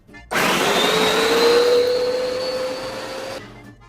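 An electric blender blending seafood dipping sauce whirs steadily and loudly for about three seconds, its motor pitch rising slightly, then cuts off abruptly.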